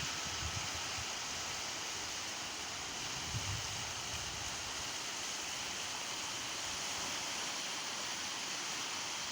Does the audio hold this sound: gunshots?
no